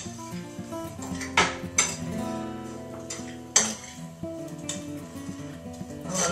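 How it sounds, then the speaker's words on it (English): A spoon stirs tofu being pan-fried with other ingredients, knocking and scraping against the pan in a few sharp clinks over a steady sizzle, close and moderately loud. "So then we're just going to stir this up."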